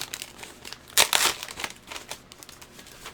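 A taped-up mail package of comic books being opened up close, with crinkling and tearing of tape and wrapping, a sharp loud rip near the start followed by softer rustling.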